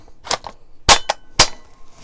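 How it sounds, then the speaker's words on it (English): Three sharp metallic clacks and snaps as a magazine is handled and seated into a Radical Firearms AR-15 rifle fitted with a riflescope, close and crisp with quiet gaps between them. "I've got to show you guys what it looks like with the magazine in it."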